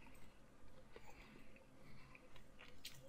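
Crunchy BBQ-flavoured lotus root snacks chewed close to the mic, with a few crisp bites and a sniff over a quiet background.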